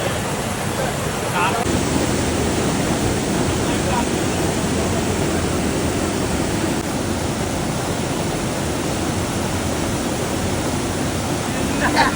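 A waterfall in Palakkad district pours with a broad, steady rushing roar, loud and close, with faint bits of distant voices and wind buffeting the microphone.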